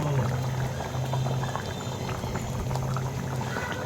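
Hilsa fish curry simmering in a cooking pot, a steady bubbling boil with a constant low hum underneath, close and continuous for the whole stretch, with no talking.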